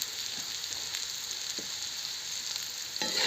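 Mohta vegetable frying with peanut powder and salt, a bright, even sizzle hissing steadily throughout with a few faint stirring taps, quiet and close with no voices.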